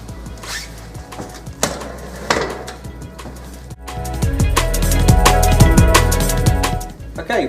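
Van seat lifted free of its base, with a run of knocks, clatters and metallic scrapes, growing louder and more continuous in the second half as the seat comes away, close and without talk.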